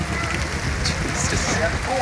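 Heavy tropical rain pours steadily on a beach house construction site in Barbados, a close, loud and unbroken hissing roar of water striking surfaces.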